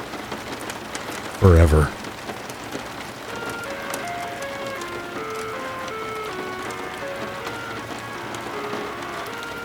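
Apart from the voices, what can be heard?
rain hitting a window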